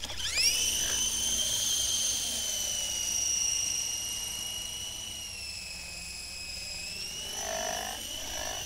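Cheap AliExpress toy helicopter flying close by, its small motor giving a steady high-pitched whine that wavers in pitch as it moves, alone without talk.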